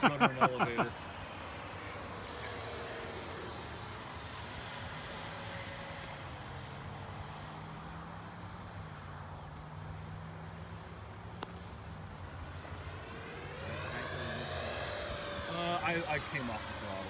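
An FMS F/A-18 radio-controlled model jet at full throttle gives a steady, sustained whine that holds through the whole stretch, with a small change in pitch. Talk is heard over it.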